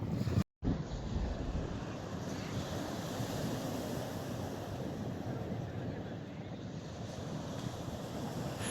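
Surf on the calm Mediterranean shore of Benafeli beach in Almassora, a continuous soft wash of waves mixed with wind rumble against the microphone, steady and fairly faint throughout after a brief cut near the start.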